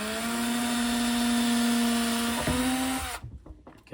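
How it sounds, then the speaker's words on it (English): A power drill whines steadily at high speed for about three seconds, pre-drilling a hole, then slows and stops with some rattling. "we're going to pre-drill that right there just a little bit"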